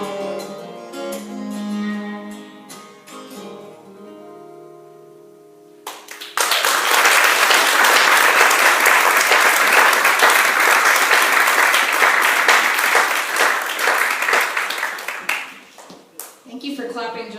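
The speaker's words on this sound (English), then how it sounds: "Thank you for clapping just long enough for us to trade instruments out." Applause at a songwriter showcase: a fading song ending gives way to a sudden burst of loud, dense audience clapping that holds for several seconds, then tapers off.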